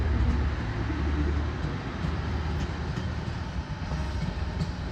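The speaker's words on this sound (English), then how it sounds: "There's a train pulling in." A train draws into a city station, its steady low rumble of wheels and rail noise rolling on evenly at moderate distance with no voices over it.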